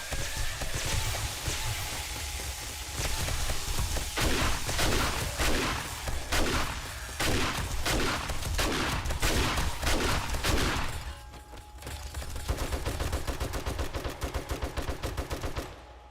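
Automated turrets in the survival game 7 Days to Die fire in dense, rapid bursts, sustained loud crackling gunfire that drops briefly and then resumes with a quicker, thinner rattle.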